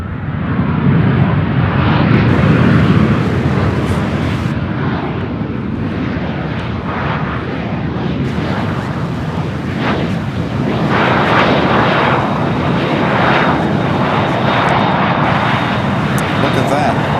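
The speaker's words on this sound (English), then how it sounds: "They sent this MD-11 to us, and they sent it up the right side." A McDonnell Douglas MD-11 jet passes at Louisville International Airport, with a loud, sustained broadband engine roar that holds throughout while people talk over it.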